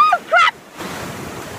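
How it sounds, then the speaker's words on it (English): Sea waves breaking and surging at Bondi Beach, heard from within the water as a steady broadband wash after a brief burst of voice at the start. "So I'm in the sea now."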